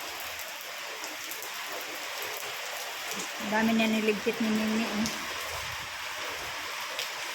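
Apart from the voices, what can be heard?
heavy rain after a typhoon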